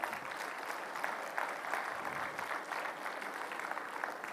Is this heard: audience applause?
yes